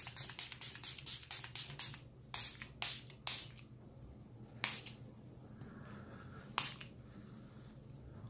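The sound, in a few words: spraying Milani Make It Last setting spray on face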